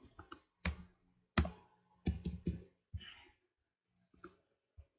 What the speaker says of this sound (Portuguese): Tem um erro de digitação aqui, então vamos corrigir rapidamente aqui o erro de digitação.